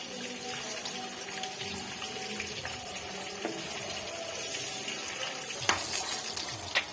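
Eggs fry in a pan in a home kitchen, a soft steady sizzle with occasional clinks and stirring taps, fairly quiet throughout.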